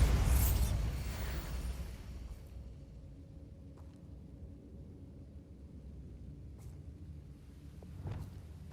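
Bombarda explosion spell in the Hogwarts Legacy video game: a loud opening blast that decays into a long low rumble, with a few faint distant cracks and a small swell near the end.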